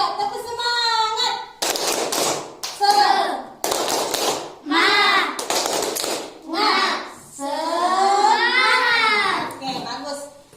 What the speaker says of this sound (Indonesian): Ayo tepuk semangat dulu sebelum kita lanjut.